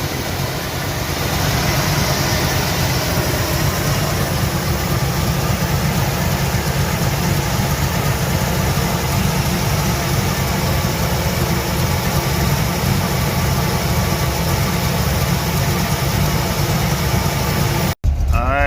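A carbureted 355 small-block V8 in a 1976 Chevy Nova idles steadily after a cold start with a low, lumpy rumble that holds constant and loud throughout, ending in a sudden brief cutoff.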